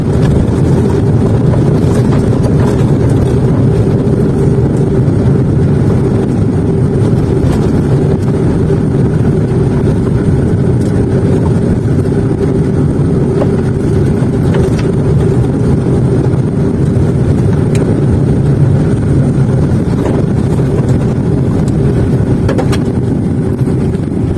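A car descending a steep mountain road with hairpin bends in second gear, with a steady loud engine drone and road rumble that runs continuously throughout.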